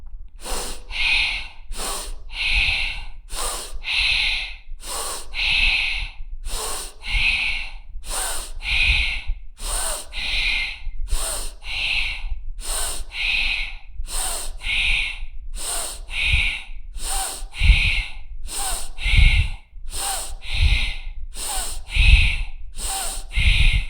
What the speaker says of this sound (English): breathe deep and loud